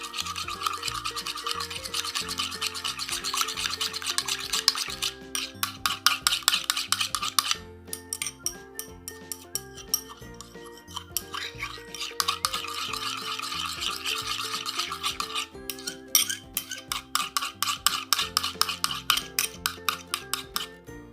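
Glue and lotion are stirred together for crunchy slime, giving fast, rhythmic squelching and scraping strokes in bursts, heard close under background music.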